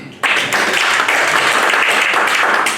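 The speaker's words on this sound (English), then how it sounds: "Let's give a round of applause to Daphne." An audience breaks into sustained, dense applause at a talk on natural healing, steady and fairly loud from the first moments to the end with no voices over it.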